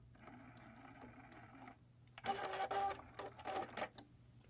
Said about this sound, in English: we're going to stop and take some back stitches to lock that in place